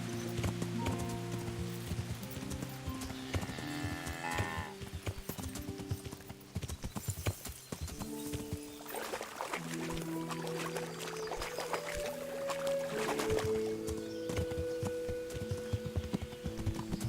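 Horse hooves clip-clop steadily in the medieval video game Kingdom Come, a rhythmic trotting under sustained music tones, with a brief whinny-like sound partway through.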